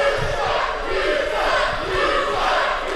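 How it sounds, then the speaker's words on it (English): A wrestling crowd shows its displeasure with a continuous wash of massed voices. The sound swells and dips in loudness, and scattered shouts stand out over the steady roar. "The crowd's showing their displeasure towards Kat Von Hees."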